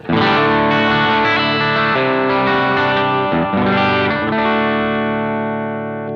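A sustained chord on electric guitar through a Boss GX-100 multi-effects processor, thick with distortion and shimmering chorus effects, ringing out loudly and slowly fading.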